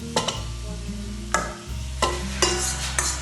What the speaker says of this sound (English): it's time to put the pork, which we already marinated in soy sauce and